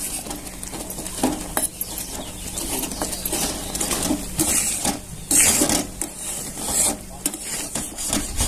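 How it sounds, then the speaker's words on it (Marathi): Yogurt being whisked for amrakhand, a mango shrikhand, a steady close rasping and rubbing stir with repeated swishy strokes, heard alone without talk. "दही फेटून घ्यायचं"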